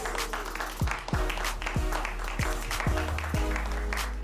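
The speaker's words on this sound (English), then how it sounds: "a big round of applause for your headliner this evening, Anthony Bonazzo." A comedy show crowd applauds as the headliner is introduced, with broad clapping running under loud music whose regular, punchy bass beats thump about twice a second.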